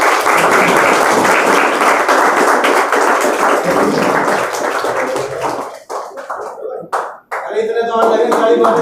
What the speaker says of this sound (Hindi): अरे इतने तो और लगे ताली मारते जा रहे हैं।